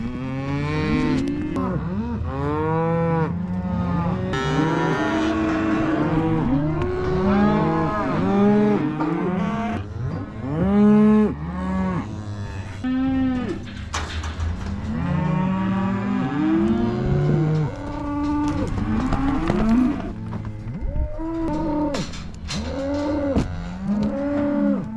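A herd of cattle moos almost nonstop during calf weaning on a ranch, many overlapping loud bellows and lows from several animals at once, near and far.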